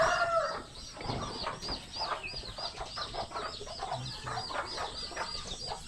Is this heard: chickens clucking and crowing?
yes